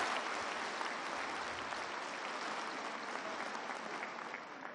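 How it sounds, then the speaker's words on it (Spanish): A large crowd applauds at an outdoor pension card handout event in Tejupilco, State of Mexico. The clapping is a continuous, even wash of sound, fairly distant and quiet, holding steady throughout. "Un aplauso muy fuerte aquí a nuestros compañeros"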